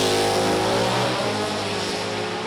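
A Ford Mustang race car in the B experimental class, with a 278 cubic inch engine, roars loudly and steadily at high revs, easing off only slightly as it runs past, with no talk.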